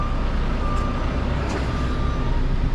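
A truck's reversing beeper sounds while a trailer backs uphill toward a loading dock, a steady warning tone riding over loud, continuous diesel engine rumble.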